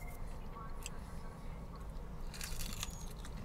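Close, crunchy bites and chewing of Jollibee fried chicken, quiet and muffled, with a few sharper crunches near the end.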